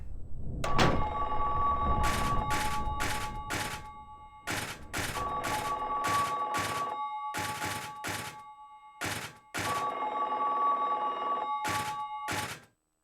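Payphone in Silent Hill 3 ringing in bursts of rapid metallic bell trills, repeated rings separated by short silences, loud and close, with a heavy thunk at the start.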